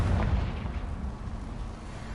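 A Confringo explosion spell cast in Hogwarts Legacy, a single low rumbling blast at the start that fades into a dull, sustained roar.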